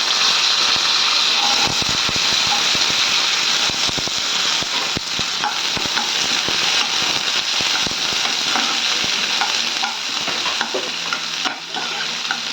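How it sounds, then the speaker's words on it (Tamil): Curry leaves, onion and capsicum sizzle and crackle loudly in hot oil in a pan, a close, dense, steady frying hiss with scattered pops and occasional stirring scrapes throughout. "இப்போ நம்ம கருவேப்பிலை கொஞ்சம் சேர்த்துக்கலாம்"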